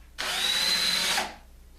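A power drill spins a bit briefly into wood while building skoolie drawers, just breaking the surface: one loud, steady whine lasting about a second that starts abruptly and tapers off, heard alone.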